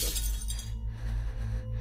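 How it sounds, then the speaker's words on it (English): A glass window in a house shatters at night, a bright crash of breaking glass up front that decays into scattered clinks and a low rumbling background. "I heard what sounded like the glass window of my mom's room also shatter"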